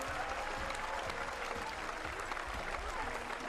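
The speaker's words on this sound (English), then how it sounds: "Well, the German crowd cheering." A German crowd at a Summer Grand Prix ski jumping event in Hinterzarten applauds and cheers steadily, a dense distant patter of clapping throughout.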